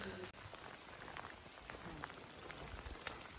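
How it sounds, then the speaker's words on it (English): Rain falling during a walk to Cascade Falls on Whidbey Island, Washington, a quiet, steady patter of drops on surfaces with occasional sharper plinks, continuous and without talk. "This is a short walk to Cascade Falls. In the rain, we fully geared up for it."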